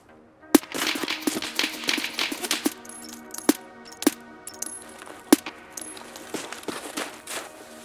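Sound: gunfire in video game Escape from Tarkov

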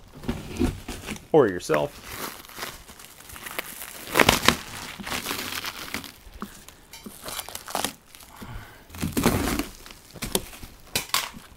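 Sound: slicing and pulling shrink wrap off a Pirelli tire

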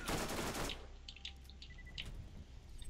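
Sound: gunfire from the player's gun in the Borderlands video game

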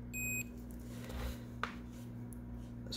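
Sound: multimeter continuity test beep

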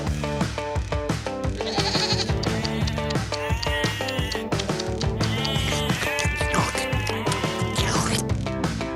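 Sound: goats bleating

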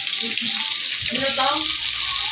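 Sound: garlic and onion frying in oil

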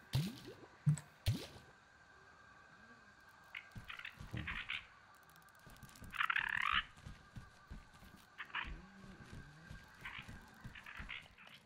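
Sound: refilling a water bottle in the video game Grounded

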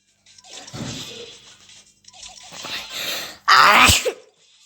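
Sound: sneeze

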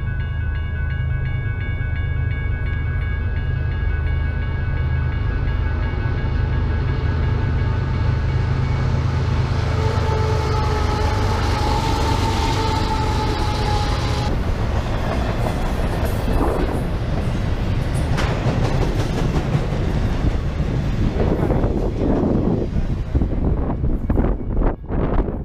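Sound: train passing by

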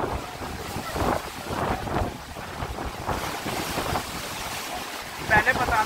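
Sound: waves on the Chambal river

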